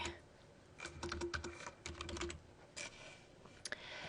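A computer keyboard being typed on while entering a title, with soft, quiet clicking keystrokes in short irregular bursts and a brief pause in the middle.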